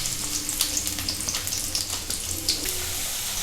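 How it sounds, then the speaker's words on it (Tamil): Onions fry in hot oil in a pan, a dense continuous sizzle with crackling pops throughout, close and steady with no voices. "வெங்காயம் நல்லா வதங்கணும்"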